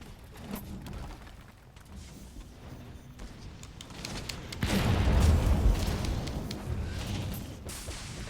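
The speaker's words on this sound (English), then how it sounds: "let's go ahead and use the Mega Barrel Bombs here" Mega Barrel Bomb detonating in the video game Monster Hunter World during a Kulve Taroth hunt, a loud low booming burst that swells midway and rumbles on for several seconds amid game noise.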